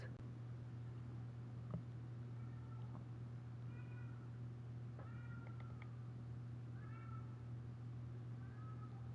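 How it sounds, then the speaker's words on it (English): Several separate, drawn-out cat meows sound at intervals, faint and distant, against a constant low hum. "Holy, this cat is just insane."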